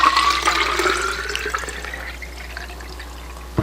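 Water poured from a jug into a container, a close, splashing gush that gradually thins to a trickle and fades, ending with a small knock.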